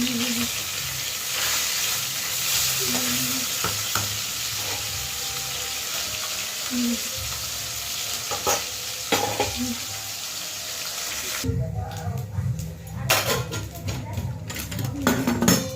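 Spice masala being sautéed in oil in a pan, a steady broadband sizzle with clinks of stirring, then the texture shifts to busier clattering near the end.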